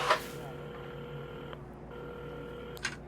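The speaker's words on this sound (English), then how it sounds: "at the counter, Carmen had started dialing the phone" A telephone is dialed in the video game Assemble with Care, with faint, steady electronic tones and a couple of soft clicks at the start and end, quiet and alone.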